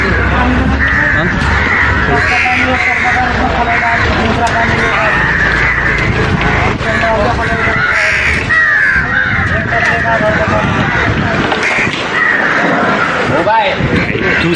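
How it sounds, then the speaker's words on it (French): Many crows cawing over a busy street in Mumbai, India, loud and continuous harsh calls overlapping throughout, with traffic and a voice talking in the background. "Et tous ces oiseaux."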